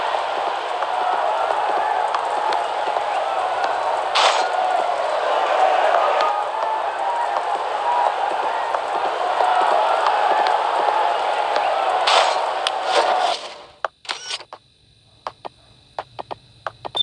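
Football crowd in DLS 19 roaring and cheering after a goal, a dense sustained stadium wash with whoops and scattered clapping that cuts off abruptly near the end.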